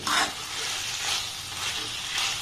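Korean rice ball mixture being stirred in a pan over a low gas flame, with a soft steady sizzle and scraping strokes that rise and fall in a few brief pulses, close and moderately quiet.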